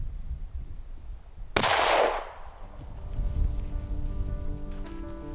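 A single sharp rifle shot at a caribou stag cracks out in open Newfoundland country, with a rolling echo that trails off into quiet wind and rustle.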